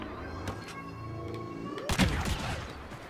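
A shotgun fires in Star Wars Battlefront gameplay, heard as a sharp boom with a rumbling tail about two seconds in, over a continuous hum of game music and ambience.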